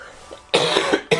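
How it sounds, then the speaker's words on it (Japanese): A man with a cold coughs during a Clash Royale game session, two sharp, close, loud coughs, the first a rough burst of several pulses and the second brief, after a faint murmur. "はい、咳出ちゃうんですよ、今"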